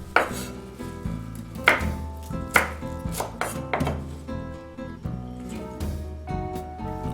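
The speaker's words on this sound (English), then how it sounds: "I chop the parsley" A kitchen knife chops fresh parsley on a cutting board for paella, giving a steady series of close, crisp thuds with a few louder strikes.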